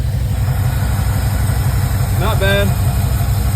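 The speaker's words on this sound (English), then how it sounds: "got the car done. Letting her run a little bit before I pull her in" Car engine idling steadily as it warms up before being pulled into a garage, a continuous low rumble throughout, with a brief spoken remark and a short tonal squeal near the end.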